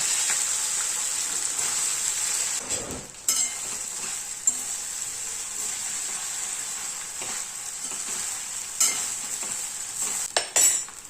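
Idli pieces are tossed into a tempering of chillies, curry leaves and turmeric on a lowered flame, a soft continuous sizzle with intermittent scraping and clinking of a spoon stirring in the pan.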